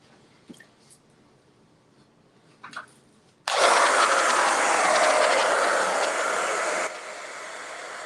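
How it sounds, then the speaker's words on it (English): Hair dryer blowing hot air onto freshly painted outdoor furniture given a vintage zinc finish, switching on abruptly after a few faint clicks and running as a loud steady whoosh, then dropping to a lower setting near the end. "And get my hair dryer."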